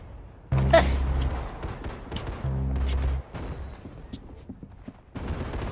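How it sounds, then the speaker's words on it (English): Gunfire rings out in the Roblox Arsenal video game: two sustained bursts of rapid automatic fire, each lasting a couple of seconds, with scattered single shots and thuds between and after them. "See, I can hear people shooting up here."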